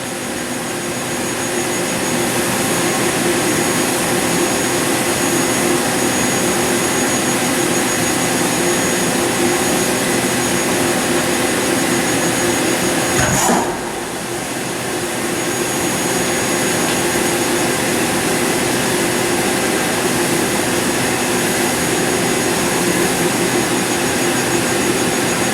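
A Bridgeport VMC3020 hi-speed vertical machining center spindle runs at speed with a loud, steady whine and roar that holds evenly throughout, broken only by a brief dip around the middle before resuming.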